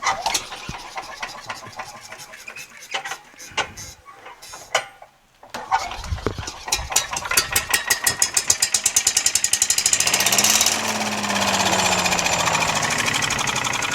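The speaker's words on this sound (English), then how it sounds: "I'm going to give it a pull." A small pull-start engine on an old Toro riding mower yanks over with a few cord pulls, then fires and settles into a steady, close, rapid putter that runs alone until the end.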